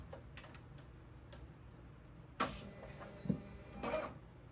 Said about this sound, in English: So I'm going to go ahead and turn my machine on now.